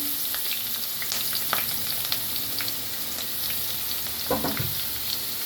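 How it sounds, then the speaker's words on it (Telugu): Onions, green chillies and curry leaves fry with a pinch of salt in a pan, a steady close sizzle with a few brief scraping stirs and a louder clatter near the end, no voices. "చిటికెడు సాల్ట్ వేసి బాగా వేయించాలి."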